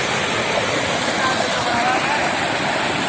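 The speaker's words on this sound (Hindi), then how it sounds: "लगातार पानी का बहाव" Floodwater rushes during heavy rain in Jaipur, a dense, loud, continuous roar of flowing water with no breaks, close by and steady throughout.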